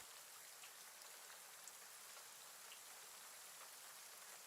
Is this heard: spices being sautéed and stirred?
no